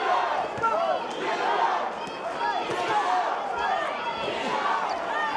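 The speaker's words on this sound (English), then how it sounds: "You hear the crowd, Madison Square Garden, New York" A boxing crowd at Madison Square Garden in New York during a title fight roars and chatters continuously, with shouts and cheers rising and falling, and voices talking over the noise.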